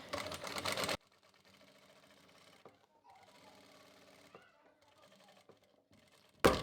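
A sewing machine stitches a belt onto saree pleats, running in a steady quiet rhythmic whir with short pauses, between louder bursts of noise at the start and end.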